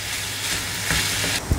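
Tomatoes sauté in a hot pan, giving a continuous soft sizzle and hiss with a couple of brief stirring knocks near the end.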